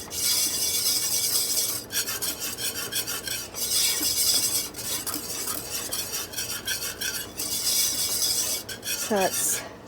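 A spoon stirs toasted nuts into a pot on the stove, giving repeated scraping, rattling strokes in bursts with short pauses and a quick clink near the end, fairly close and moderately loud.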